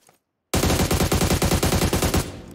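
Sustained automatic gunfire from PUBG Mobile, a rapid, evenly spaced burst of loud shots beginning abruptly after a moment of silence and running for about two seconds, close and dominant.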